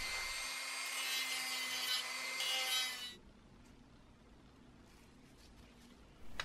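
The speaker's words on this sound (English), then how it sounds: "I'm removing some material from the seam lines so that the gap will be easier to fill later on." Seam lines and glossy flat surfaces on 3D-printed sword parts are sanded by hand, giving about three seconds of close, steady scratchy rubbing that then stops, leaving quiet room tone.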